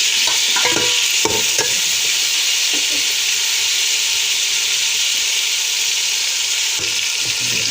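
Tomatoes and spices hit frying meat in a pot for degi-style aloo gosht, setting off a loud, continuous sizzle and hiss, with a few stirring clatters early on and no talk.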